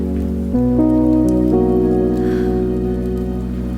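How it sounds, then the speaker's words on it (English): Steady rain patters on a van's roof on a warm night, an even hiss running throughout beneath soft, sustained musical chords that change a few times. "The rain stayed with us. But it's warm in here. Rain is cozy."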